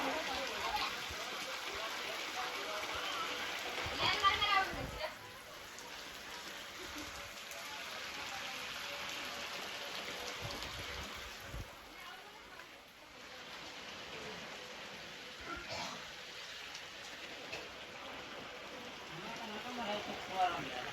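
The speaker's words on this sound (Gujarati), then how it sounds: "આપણા ગામમાં જોઈ શકો છો જોરદાર અત્યારે છે ને વરસાદ પડે છે." Steady heavy rain hisses and patters throughout, with water splashing nearby as it floods a yard in a village, a few knocks, and a voice talking over it at times.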